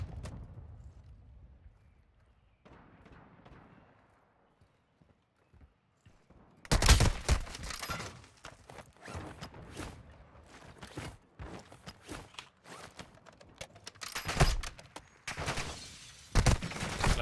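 Pistol gunfire in the DMZ video game, with several loud, sharp shots in quick bursts after a quiet stretch, mixed with scattered impacts and movement noise.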